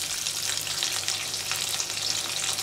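Onions for tendli sabzi fry in hot oil with a continuous bright sizzle and crackle, moderately loud and close, with no talking.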